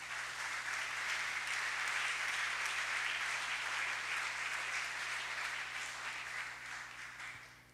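A church congregation breaks into sustained applause that holds steady for several seconds and then slowly fades at the end. A faint voice can be heard at times under the clapping.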